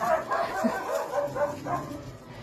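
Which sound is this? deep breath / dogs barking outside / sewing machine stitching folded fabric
dogs barking outside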